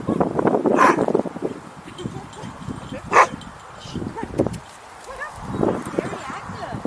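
A young, very active pup outdoors at night in Kirkland Lake gives a few sharp barks and whimpers, mixed in with people chatting nearby.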